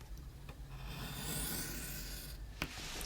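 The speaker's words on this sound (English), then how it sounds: "We're going to cut around the outside now." Scissors or a blade cut around the outside of a paper geometric pop-up card, a faint continuous rasping and scratching close by with a couple of small sharp snips, no talk.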